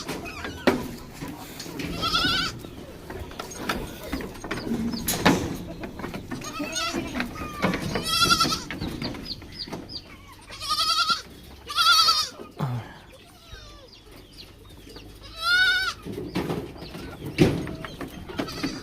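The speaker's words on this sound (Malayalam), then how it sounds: "2 ആടുകളും 4 കുട്ടികളും." Two goats and four kids bleat repeatedly, some close and loud, others fainter, scattered among outdoor sounds and occasional talk.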